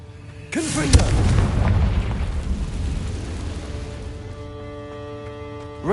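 A Confringo blasting spell from Hogwarts Legacy bursts with a loud booming explosion, followed by a long rumbling roar that slowly fades under a lingering tonal hum.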